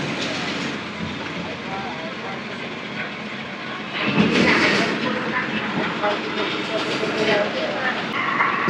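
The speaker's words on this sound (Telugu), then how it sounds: "ఫ్రంట్ ఒక ట్రైన్ కూడా వెళ్తుంది." A train passes nearby on the Kakinada to Samarlakota route in Andhra Pradesh, heard from a moving bus as a continuous loud rumble and rattle that swells partway through.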